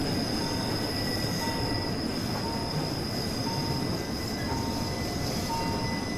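Simulated train running in a train driving video game, with steady rail rumble, wheel squeal and faint clicking throughout, heard alone without talk.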